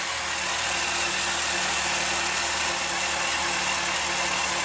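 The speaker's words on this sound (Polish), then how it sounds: "Silniczek pracuje sobie jak" A Yamaha FJR1300 motorcycle engine idles steadily just after throttle-body synchronization, a continuous even mechanical hum with a broad hiss, constant in loudness and close by, with no voices.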